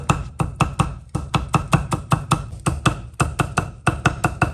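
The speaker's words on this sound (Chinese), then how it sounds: "洋葱切成细丝，青椒清洗干净，去籽去瓣，用刀轻轻的拍匀，同样切成细丝。" A knife chops onion and green pepper into thin strips on a cutting board, with a quick, steady run of sharp, even taps close by and no talk.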